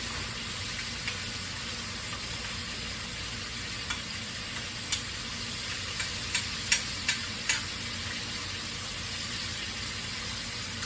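Green beans cooking in a pan, sizzling steadily and fairly loud throughout, with a few faint clicks and taps from stirring near the end.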